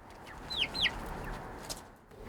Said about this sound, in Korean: 한두 마리도 아니고 어린 닭을 14마리나 받아온 정은 씨.